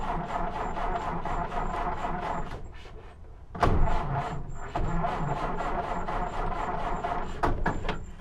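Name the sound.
1929 Ford engine cranking, trying to start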